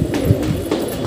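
Pigeons give a brief, soft, low cooing close by, a single short burst of murmuring calls.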